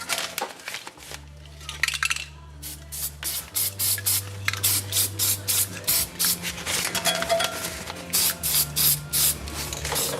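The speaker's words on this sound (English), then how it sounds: "I'm going to come in and hit it with some paint just so it doesn't rust. I'm just using some leftover high temp grill paint that I had." Aerosol can of leftover high-temperature grill paint spraying a brake dust shield on a 4Runner in a garage, in repeated short hissing bursts over a low steady hum, close and fairly loud.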